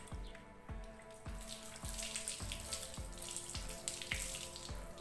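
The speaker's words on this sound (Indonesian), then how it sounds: "Nah ini kita siram ya guys ya, sampai basah semua." Water is poured over a motorcycle helmet to rinse it, a steady splashing stream with rhythmic pulses roughly every half second, close and continuous with no talking.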